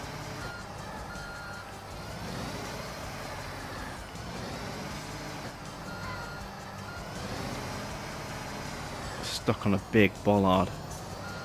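A truck in the Construction Simulator 2 game rumbles steadily while reversing beeps repeat throughout, with someone talking over it and a brief burst of higher beeps near the end.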